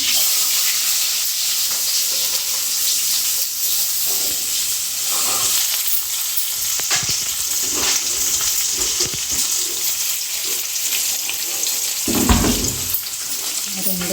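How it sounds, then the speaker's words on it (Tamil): Mustard seeds hit hot oil in a home kitchen pan, giving a loud, steady, dense sizzle and crackle that runs throughout, with a brief louder spatter near the end. "இப்போ வந்து கடுகு போட்டுக்கலாம்"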